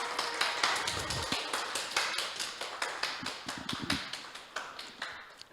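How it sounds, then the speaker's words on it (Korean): An audience claps to welcome a speaker at a training session for Gyeonggi public kindergarten teachers, a steady, fairly faint patter of hand claps that lasts throughout and thins out at the end. "큰 박수로 맞이해 주시기 바랍니다"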